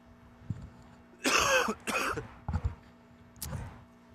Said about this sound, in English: You will hear me cough every now and then